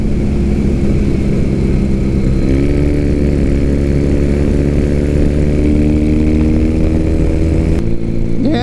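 A Harley-Davidson motorcycle engine drones steadily and loud throughout a ride, its pitch climbing slightly partway through before a brief shift near the end, with no speech.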